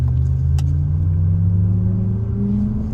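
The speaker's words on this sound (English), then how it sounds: "it gives you that slight V8 kind of rumble, but it is not natural" A Mahindra XEV 9S electric car plays an artificial V8-like rumble, a loud, steady low drone that rises gently in pitch as the car moves.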